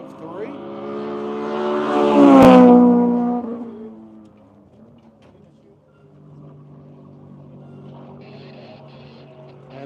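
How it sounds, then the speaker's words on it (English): A Honda CRX race car passes close by on a track as it finishes a lap, its engine note rising loud then sweeping down as it goes away, before a fainter engine hums in the distance. "Here comes the CRX to finish lap number 2 of"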